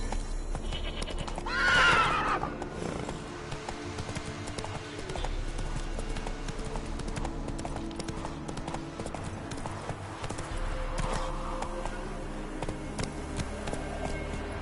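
Roach the horse galloping in The Witcher 3: Wild Hunt, with rapid hoofbeats under game music and a neigh early on, the pounding continuing steadily throughout.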